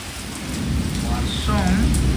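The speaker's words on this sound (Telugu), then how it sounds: "దంచి కొడుతుంది అనమాట వర్షం" Heavy rain pounds steadily on an out-of-season summer storm with lightning strikes nearby, a dense continuous roar with low rumbling underneath and no voices.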